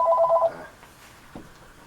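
A telephone rings once with a short electronic warble, close and clear, then falls away into near silence with a faint click afterward.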